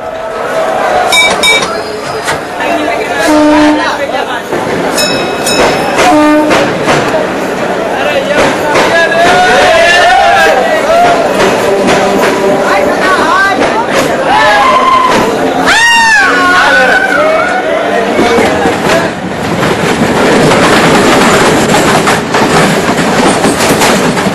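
An Indian Railways passenger train pulling out rumbles and clatters continuously with metallic clinks and squeals, while a crowd of people chatters and calls out throughout.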